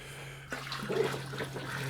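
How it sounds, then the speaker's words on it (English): Dissolved calcium nitrate nutrient solution being poured into an IBC tote hydroponic reservoir: a steady splashing, gurgling pour of liquid close by, with a constant low hum underneath. "The first nutrient I'm going to add, the calcium nitrate, which is fully dissolved in hot water."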